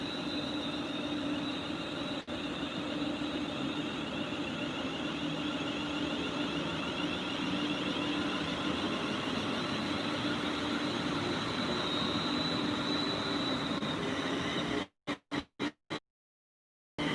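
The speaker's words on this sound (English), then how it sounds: "Ooh, the train's leaving. Here we are, we get a train leaving." Steady, loud rumble of a train moving, a broad continuous roar that cuts off sharply at the end, with no voices.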